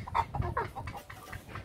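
A rooster on a farm clucks in a quick series of short, throaty calls at close range, with a faint murmur of outdoor background behind it.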